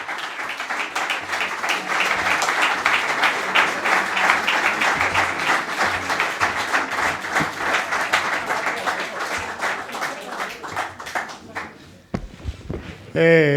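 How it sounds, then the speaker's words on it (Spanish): An audience at an award ceremony claps at length, a dense, lively wave that holds strong before thinning out near the end, where a voice and a brief tone come in. "por favor que el aplauso sea para nuestra homenajeada Esperanza Aguirre"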